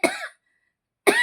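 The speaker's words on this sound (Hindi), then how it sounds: "माफ कर, बहुत ज्यादा खांसी होगी" Two short harsh coughs from a man giving a Hindu devotional discourse, close and loud, separated by a brief silence.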